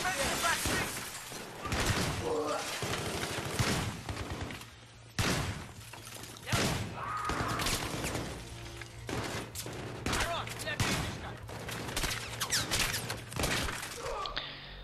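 Shotgun blasts ring out in Battlefield 3 gameplay, repeated heavy booms scattered across a busy battle soundscape of other gunfire and impacts, loud and dense throughout with someone talking over them.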